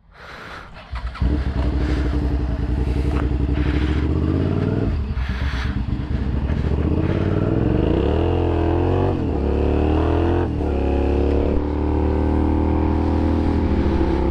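A motorcycle engine starts up and runs loud and close, revving up and down several times with a throaty, rising and falling roar.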